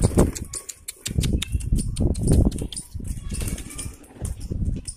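A flock of Punjabi flying pigeons is released and takes off, producing a burst of rapid, irregular wing flaps and fluttering close by, loud at first, then easing.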